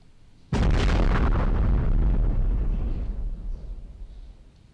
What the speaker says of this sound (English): the explosion noise, is a meteor coming into the atmosphere